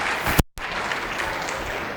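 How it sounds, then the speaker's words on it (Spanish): Audience applause in a conference hall, a dense, steady wash of clapping that runs the whole moment, briefly cut by a short dropout near the start, with no speech over it. "Démosles un aplauso porque hicieron un esfuerzo grande"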